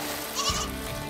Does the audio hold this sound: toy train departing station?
no